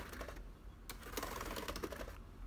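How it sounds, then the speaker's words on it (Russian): Laptop keyboard keys pressed in quick, uneven clusters of soft clicks and taps, fairly close, with a brief pause near the start and no talking. "Клавиши легко нажимаются"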